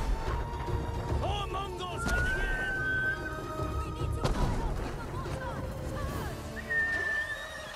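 Horse neighing in the Ghost of Tsushima video game, a rising whinny standing out over a busy battle mix of clashes, impacts and a voice talking throughout.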